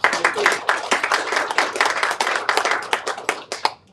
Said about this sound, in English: I think we should all acknowledge them, even with a round of applause